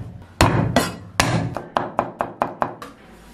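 A knife minces garlic on a wooden cutting board while aromatics are prepped for a tofu dish. About ten sharp, close chops land alone, slow at first and then quicker and more even.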